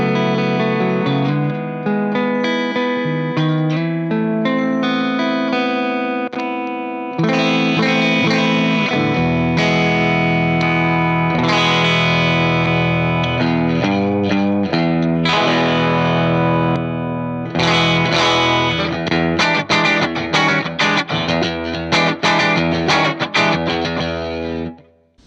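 An electric guitar plays through a Hotone Ampero Mini amp model with reverb added, with loud, continuous chords and picked notes over about 25 seconds that ring out with a slight distorted edge and a reverberant tail.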